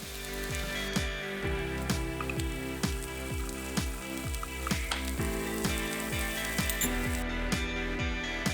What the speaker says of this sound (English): then we're gonna put our cauliflower fried rice in